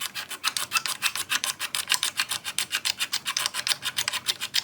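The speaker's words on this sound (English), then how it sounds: "I'm going to take this straight razor and I'm going to scrape the fretboard like this with it." Straight razor scraping the wooden fretboard of a Gibson guitar in quick, even back-and-forth strokes, a dry rasping rhythm of about five strokes per second, close and steady throughout.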